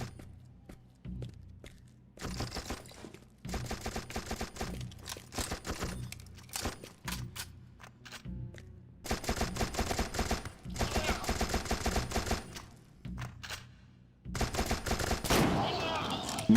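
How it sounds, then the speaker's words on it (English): Bursts of automatic gunfire from the first-person shooter You Are Empty, loud rapid volleys coming in several separate spells with short quiet gaps, later joined by a rougher burst near the end. "Who the fuck is shooting?"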